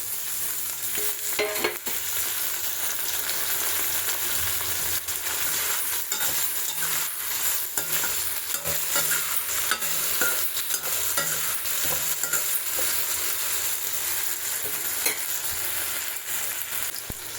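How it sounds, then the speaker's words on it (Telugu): Tomato and potato pieces for a curry fry steadily in a pan, giving a constant close sizzle under frequent scraping stirs, with no talking. "ఇప్పుడు టమాటా ముక్కలు వేసుకున్నాం."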